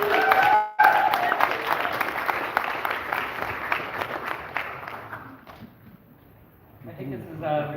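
An audience at a political rally applauds a fundraising speaker with a loud burst of dense clapping that thins and fades after about five seconds, followed by a voice speaking.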